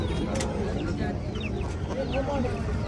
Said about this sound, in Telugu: మంచి హెవీ సైజు గల పెట్ట.